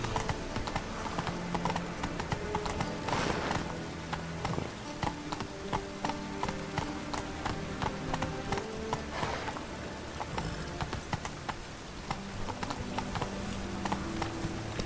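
Horse galloping in The Witcher 3 video game: rapid, continuous clip-clop hoofbeats at an even rhythm, with a rain-like hiss and game ambience underneath.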